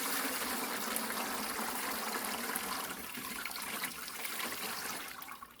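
Liquid pours steadily from a removable pressure cooker pan through into a gallon pail holding bones, a close, continuous splashing gush that gradually thins toward a trickle.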